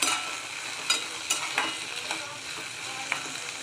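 Cluster beans (guar) stirred as they fry in a pan, a steady soft sizzle broken by several scraping stirs, close and moderately loud with no talking.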